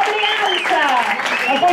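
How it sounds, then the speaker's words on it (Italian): Audience applause at a team poetry slam, heard under a loud host's voice that talks over the clapping for the whole short stretch. "Un grande applauso"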